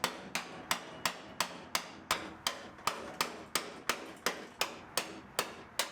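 Repeated hammer blows knocking out spot welds along the bottom of a Mustang GT parts car's frame rail, about fifteen sharp metallic strikes in a steady, fast rhythm, close and loud with no talking.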